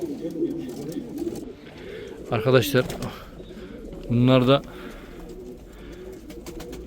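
Pigeons coo in two bursts against a background hum, with someone speaking briefly in Turkish between calls.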